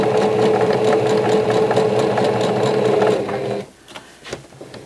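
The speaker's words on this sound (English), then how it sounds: "Now I'm going to leave this last one in my sewing machine" A sewing machine stitching quilt blocks cut from precut fabric, a steady fast close-up mechanical whir for about three seconds that stops abruptly, leaving faint handling sounds.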